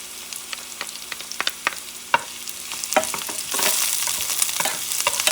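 Garlic with oregano frying in a pan for Puerto Rican corned beef with pasta, a bright crackling sizzle broken by quick scraping strokes of a stirring utensil that grow busier and louder near the end, with no voices.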